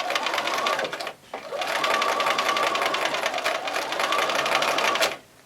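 A sewing machine runs steadily, stitching four-patch quilt pieces with a rapid, even mechanical chatter, briefly pausing once near the start before resuming and stopping at the end.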